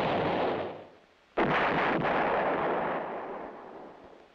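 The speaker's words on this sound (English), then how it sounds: "The self-propelled 8-inch howitzer M110 employs the same tube as the towed weapon." A heavy 8-inch howitzer artillery piece fires, a loud booming blast at about 1.4 seconds trailing into a long rumbling decay, with the tail of an earlier shot fading away beforehand.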